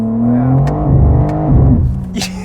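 A 2023 BMW M4 CSL engine revs loudly from inside the cabin, pitch climbing and dropping through several quick, sharp gear shifts in a steady, continuous drone.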